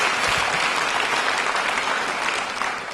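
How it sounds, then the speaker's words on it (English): An audience claps in sustained, dense applause, loud and close, holding steady for several seconds before easing slightly near the end. "Give a round of applause"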